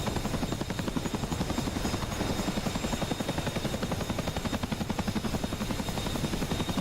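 A helicopter in the DCS flight simulator game thumps with a steady, loud rotor chop, the rapid blade pulses continuing unbroken from start to finish with no voices.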